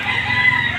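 A live chicken being carried for a delivery booking gives a short, close cluck or crow, sharp and alone.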